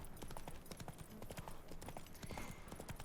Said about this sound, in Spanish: Mira mi caballo.